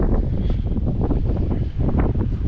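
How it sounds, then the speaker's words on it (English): Gusts buffet the microphone in a continuous low, rumbling roar, heavy and close, with no other clear sounds over it, on the shore at Immingham Bay. "A bit windy."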